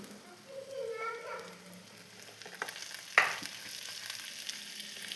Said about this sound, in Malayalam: നമുക്ക് ആ അരിഞ്ഞു വെച്ചിരിക്കുന്ന മുളക് ഇട്ട് കൊടുക്കാം.